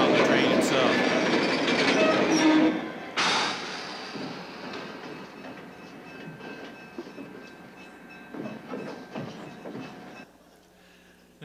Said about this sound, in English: And we see Hitch making an attempt to get on the train himself.